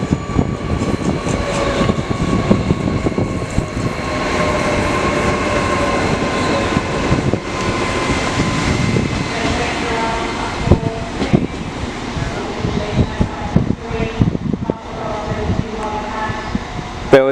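Class 805 train 805009 pulls into Chester station on a West Coast service to London Euston, a loud, continuous rumble of engine and wheels with some squealing and clanks, close on the platform, with station voices mixed in.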